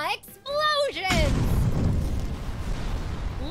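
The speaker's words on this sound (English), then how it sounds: "Explosion!" A video game explosion in Regalia: after a brief exclaiming voice, a loud, sudden boom erupts and then fades into a long, rumbling decay.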